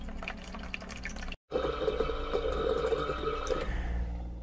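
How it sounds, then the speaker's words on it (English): A SimPure Y7P countertop reverse osmosis filter flushing water, a quiet steady trickle and drip with a faint pump hum, briefly cut out before resuming and easing off at the end. "And this is flushing that filter right now."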